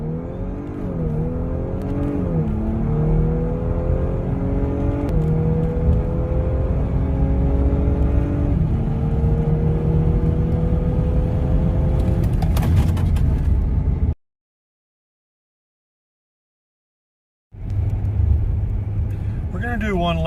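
Audi B9 S4 with stock airbox pulling hard on a quarter-mile run, engine note rising through gears with shift dips, loud and close, then a brief dropout before the motor resumes.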